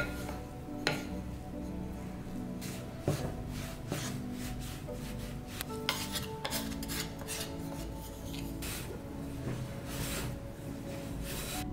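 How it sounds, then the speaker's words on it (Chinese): All-purpose flour and instant yeast worked into wet bun dough in a bowl, with steady clinking and scraping of a utensil against the bowl over a low background hum and scattered sharper knocks. "再把无需泡发的 instant 酵母和中筋面粉混合拌匀，干湿混合在一起拌匀"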